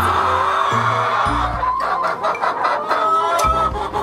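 Several chickens in a pen cluck and squawk close by. Their short, uneven calls overlap in a busy, continuous chatter.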